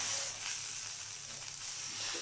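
Beef serundeng, shredded beef cooked down in a pan until dry, giving a soft continuous sizzle and hiss at an even, fairly quiet level with no talk over it.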